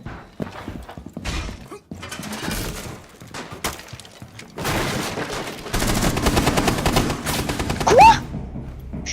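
Gunfire in Rainbow Six Siege comes as sharp bursts of rapid shots, sparse at first and then denser and louder in the second half, mixed with clattering game sounds.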